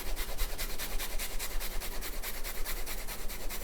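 A large garlic clove is rubbed across a grater in fast, even rasping strokes, close and fairly loud, a regular scraping rhythm running without pause.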